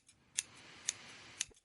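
Scissors trim fine hemp buds by hand with three crisp, evenly spaced snips at close range, separated by quiet pauses.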